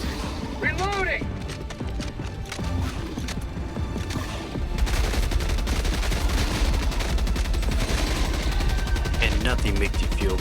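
Sustained heavy machine gun fire in Helldivers 2 hammers away in a fast, continuous stream that grows louder midway, layered with explosions and in-game voices shouting over the chaos.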